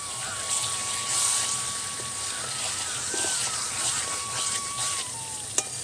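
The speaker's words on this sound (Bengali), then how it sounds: "ভালো করে কষিয়ে কষিয়ে ধিমি জালে রান্না করব" Curry slowly sautéed on low heat in a pot over a clay stove, with a soft continuous sizzle and occasional stirring, plus a faint steady whistle-like tone in the background and a single sharp click near the end.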